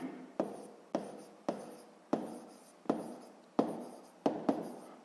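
A pen or chalk writes out a mathematics equation in a series of about eight short, sharp strokes with steady pauses between them, close and fairly quiet, with no talking.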